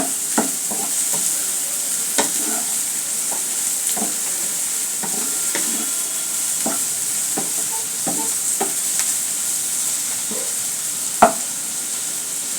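Chopped garlic fries in oil with a steady sizzle and hiss, while a spoon taps and scrapes the pan now and then, close up with no talk.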